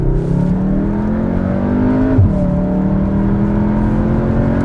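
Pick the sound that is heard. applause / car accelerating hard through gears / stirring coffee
car accelerating hard through gears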